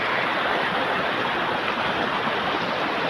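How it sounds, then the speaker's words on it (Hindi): Fast-flowing water rushing through a canal along the Narmada river, a loud, steady broadband roar of churning current that continues unbroken from start to finish, with no voices. "कितनी तेज धारा।"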